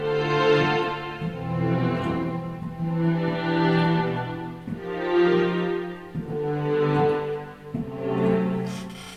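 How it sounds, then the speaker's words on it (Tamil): Electronic keyboard on a strings patch plays sustained, swelling chords that blend smoothly into one another over about nine seconds, steady and fairly loud with no voices. "ஸோ இப்போ ஸ்ட்ரிங் சவுண்ட்ஸ்,"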